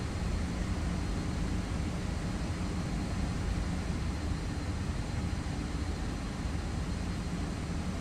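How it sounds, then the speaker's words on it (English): A Boeing 757 airliner taxiing in a flight simulator, its jet engines giving off a steady, even roar with no breaks, heard from the cabin or cockpit with no talking. "And we'll taxi here to runway 18 center."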